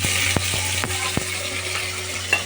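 Onion with bay leaf, cinnamon, clove and curry leaves frying in hot oil in a pan for chicken masala gravy, a close steady sizzle with a few sharp stirring clicks of a spoon.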